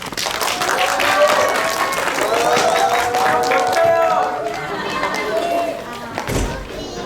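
Clapping from a school audience welcoming the next student speaker at a third-grade career fair presentation, mixed with children's chatter and crowd noise, loud and close, thinning out near the end.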